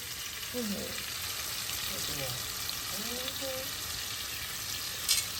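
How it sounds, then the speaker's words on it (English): Steady frying sizzle from salmon in a hot frying pan, a broad hiss with faint crackles, close by, with occasional soft voices underneath. "our salmon is sizzling so nicely"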